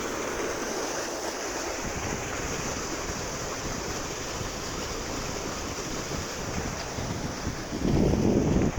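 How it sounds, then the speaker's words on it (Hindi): Constant heavy rushing of water falling from Muran Dam in Koraput, a broad roaring wash with gusts of wind buffeting the microphone, growing louder toward the end. "तो देखु गाइस एमती पानी पड़ुछि एठी"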